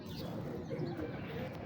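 Pigeons in a breeder's loft coo softly and close by, low murmuring calls repeating over a steady background hum.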